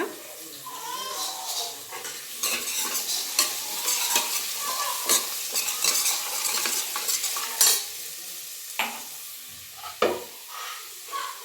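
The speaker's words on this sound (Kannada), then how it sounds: "ಎಣ್ಣೆ ಬಿಸಿ ಹಾಕಿದ್ದಂಗೆ ಈರುಳ್ಳಿ ಹಾಕ್ಕೊಂಡಿದ್ದೀನಿ ಹಾಗೆ ಒಂದು ನಾಲ್ಕು ಎಸಳು ಬೆಳ್ಳುಳ್ಳಿನ ಹಾಗೆ ಕುಟ್ಟಿ ಇಟ್ಕೊಂಡಿದ್ದೆ ಬೆಳ್ಳುಳ್ಳಿನೂ ಹಾಕೊಂಡ್ರೆ" Onion and a few crushed garlic cloves fry in hot oil for a Mangalore cucumber and avarekai sambar, a steady sizzle broken by the scrape and clack of a spoon stirring the pan, close and continuous.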